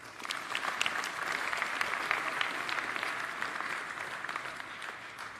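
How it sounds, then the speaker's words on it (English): Graduation ceremony audience applauding steadily for several seconds, a dense, even wash of clapping from a large crowd in a hall, moderately distant and without talk over it. "Please give a round of applause to your parents."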